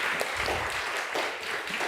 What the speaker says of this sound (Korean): 우리 예월이와 다시 한번 축복 박수합시다.